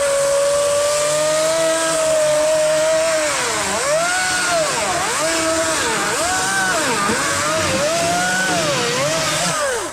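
A chainsaw cuts a 6x6 timber cant in half. The engine screams loud and close the whole time, bogging and recovering in a repeated rhythm as the chain bites into the wood.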